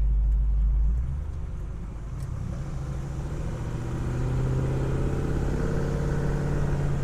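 A 1967 Chevrolet Chevelle SS clone convertible's engine rumbles while driving on a bumpy road, a steady mid-pitched drone that dips and then builds gently, close and continuous with no talking.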